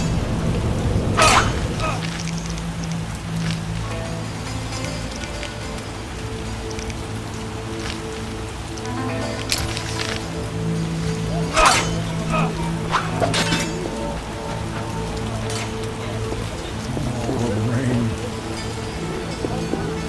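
Heavy rain pours down in The Witcher video game, a dense, steady hiss of falling water with scattered sharp drops and occasional distant rumbles, while a voice speaks over it.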